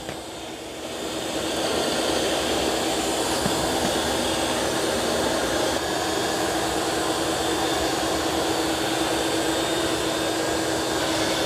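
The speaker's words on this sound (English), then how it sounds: "it's vacuuming and mopping at the same time" A Eufy X8 Pro robot vacuum vacuuming and mopping a floor at the same time, giving a steady, fairly loud whirring motor and suction drone that swells up within the first second and then holds even throughout.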